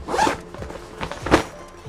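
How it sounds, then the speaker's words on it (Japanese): Double zipper on a 22–25 L backpack pulled open in two quick, close zips, each a short rasping burst about a second apart. "ダブルジッパーとは別にこの両端から 開くことができるので"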